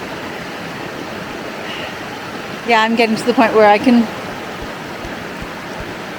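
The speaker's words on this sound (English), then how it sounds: "the sound of the water" Water rushes in an outdoor stream in a wooded spot, a steady broadband wash running throughout while someone briefly talks over it.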